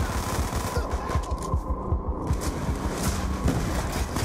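Automatic gunfire in the Black Ops 2 campaign rattles in rapid, continuous bursts, loud and dense over a rumbling, distorted game soundtrack, with no talk.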